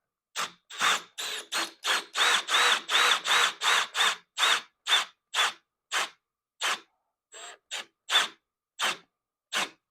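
Power drill driving screws into a drag chain mount on an Onefinity Elite CNC: a steady run of short, close whirring bursts in even rhythm, then a brief pause and a few more spaced pulses, with no talking.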